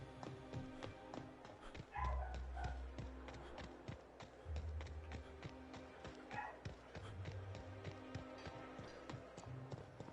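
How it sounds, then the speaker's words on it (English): A puppy barks from upstairs in a house, several faint, distant barks spread over quiet background taps and thumps. "She's up there barking, trying to welcome mommy home."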